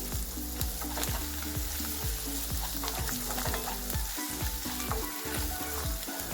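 Turmeric and coriander stirred into a cooked mixture frying in a pan, a loud continuous sizzle with regular scraping spoon strokes repeating about twice a second, close and with no voices.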